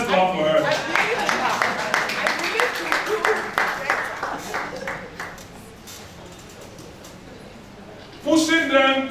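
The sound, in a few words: audience clapping for a new sponsor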